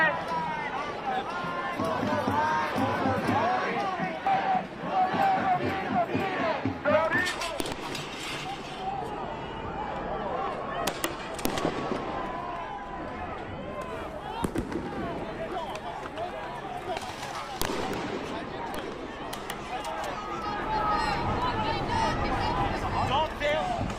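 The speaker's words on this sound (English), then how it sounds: "Flashbangs inside a college campus." Flashbang grenades bursting during a police crackdown on a protest at a UCLA college campus, several sharp broadband bangs scattered through a continuous din of crowd noise, shouting and talk.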